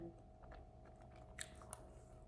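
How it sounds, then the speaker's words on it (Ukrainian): Soft mouth chewing of food, close and quiet, with a couple of brief crunchy clicks over a steady low hum of room noise. "Все, не хочу вам чавкати."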